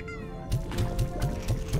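Short, clipped clucks from chickens in Slime Rancher 2 repeat in a quick, steady rhythm, about four per second, over a faint background hum.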